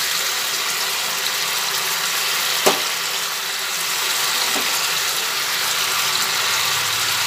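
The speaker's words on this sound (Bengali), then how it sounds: "মাংসগুলো তেলের মধ্যে দিয়ে অল্প করে ভেজে নিয়ে একটা পাত্রে মাংসগুলো সব তুলে ফেলছি" Chicken pieces fry in hot oil for a yogurt chicken curry, a steady, bright sizzling hiss that holds throughout, with one sharp clink of a utensil partway through and no voices.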